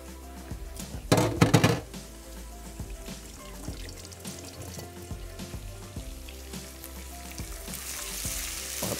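Over half a kilogram of bone-in red meat fries in hot oil or ghee with a steady, close sizzle, briefly interrupted by a loud burst of stirring clatter early on.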